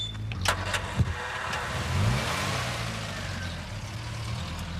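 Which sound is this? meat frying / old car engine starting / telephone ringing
old car engine starting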